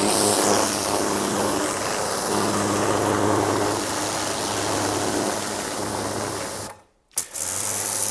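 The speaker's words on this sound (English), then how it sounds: "So we'll run first of all and we'll use the normal dirt killer nozzle lance." A Kranzle X Line A15TST pressure washer runs with its dirt killer nozzle lance, giving a loud, steady mechanical drone with a low motor hum throughout, cutting out briefly near the end before resuming.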